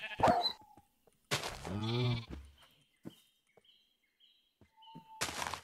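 Sheep in the Minecraft video game bleat in a short quavering cry, followed by a few faint clicks and thunks of game effects, with a brief burst of noise at the start and end.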